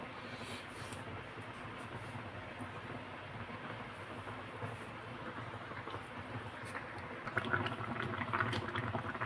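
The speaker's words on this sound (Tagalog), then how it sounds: "Ayan guys, kulong-kulo na." Ampalaya with egg and tomatoes boiling in a pan, a steady low bubbling and hissing simmer that stays fairly quiet, growing a little louder and busier with faint clinks near the end.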